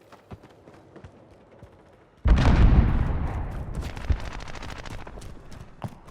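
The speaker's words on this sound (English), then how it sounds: "Throwing grenade." A grenade explosion in Call of Duty Modern Warfare: a sudden, loud, close boom after quieter scattered distant gunfire, followed by a rumbling decay with sporadic shots continuing.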